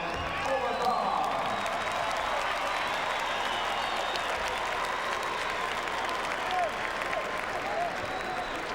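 Sustained crowd applause and cheering in a boxing arena, a broad wash of clapping with scattered whoops, while a ring announcer's voice carries faintly under the noise throughout.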